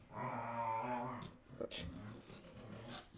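A year-old shepherd puppy and another dog growl low and rumbling for over a second, then softer rustles and short noises follow at close range.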